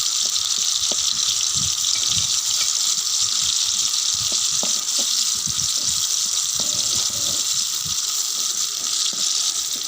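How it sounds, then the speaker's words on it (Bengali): Chopped onion frying in a little oil in a pot on a village stove, a steady close hiss of sizzling with occasional soft pops and faint utensil knocks throughout. "পেঁয়াজটা ভালোভাবে ভেজে নিব।"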